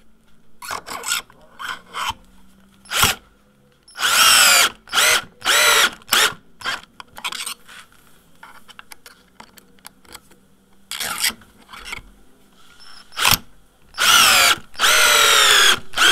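A power drill drives screws into a wooden side table for a parasol, in repeated loud bursts of one to two seconds separated by short pauses and softer handling noises.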